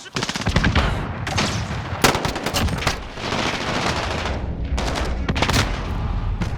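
M4 rifle fire in a video game comes in loud, dense automatic bursts for several seconds, with brief gaps between volleys and no talk over it.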